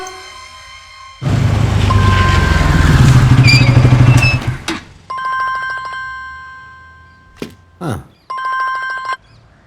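A phone ringtone chimes in repeated bursts, first under loud engine rumble and then in clear, evenly spaced rings.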